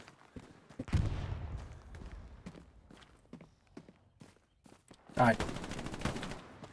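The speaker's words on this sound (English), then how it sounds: "I hear shots probably from there too" Gunshots in the WWII shooter Hell Let Loose, scattered single cracks and short bursts near and far, with a loud volley at the start and another near the end, footsteps crunching between and a brief spoken word.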